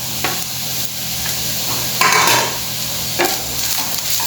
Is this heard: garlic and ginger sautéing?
yes